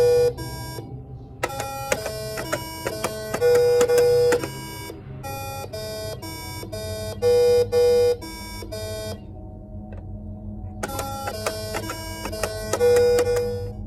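Simon memory toy sounding a sequence of electronic tones in bursts, each tone a steady bright note, with short pauses between groups and a low hum beneath throughout.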